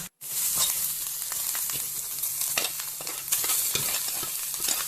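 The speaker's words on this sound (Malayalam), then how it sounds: "ചട്ടിയിൽ എണ്ണ ഒഴിക്കുന്നു. കടുക്," Mustard seeds, chili and curry leaves sizzle in hot oil in a pan, a steady crackling hiss with sharp pops and spatters throughout, close by.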